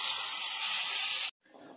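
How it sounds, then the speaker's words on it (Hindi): Water gushes steadily and loudly into a pan of roasting chicken head curry, then stops abruptly and leaves a softer sizzle behind. "देख सकते हैं अपना पानी आ गया इसमें"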